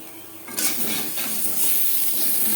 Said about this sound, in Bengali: আলু হালকা করে ভাজা হয়ে গেছে